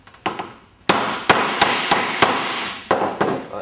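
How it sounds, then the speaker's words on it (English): A chisel is struck repeatedly while cutting wood along a marked line on a door: about eight sharp, loud knocks at irregular intervals, each decaying quickly, with no talk. "gently with the chisel, flat side to the line, flat side of the chisel to the line"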